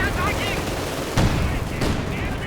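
Light machine gun fire in the Company of Heroes 2 video game, with rapid bursts and sharp crackling shots mixed with battle noise, under a commentator talking.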